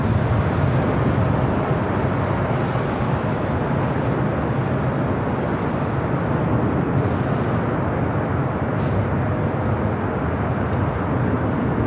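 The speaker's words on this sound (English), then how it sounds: "Right up next is a special livery honoring those that serve the 737 MAX 8 with Alaska." Steady, loud roar of an Alaska Airlines Boeing 737 MAX 8 in a special livery at LAX, a sustained broadband jet drone holding constant throughout with faint higher whines.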